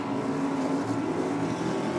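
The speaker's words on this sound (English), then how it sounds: "Cowie in the Suzuki Mighty Boy. Wheels up and launched over towards the Christmas tree for Cowie." At a drag strip, a Suzuki Mighty Boy launches from the start line toward the Christmas tree, its engine a continuous buzzing drone heard from a moderate distance, fairly faint and steady.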